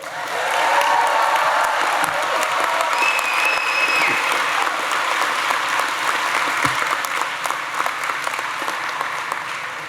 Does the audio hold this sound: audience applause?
yes